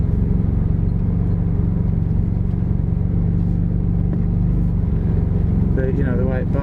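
A 30-year-old VW T3 syncro van crawls slowly over a bumpy desert track in Morocco, its engine a loud steady rumble from inside the cab, with a brief higher whine near the end.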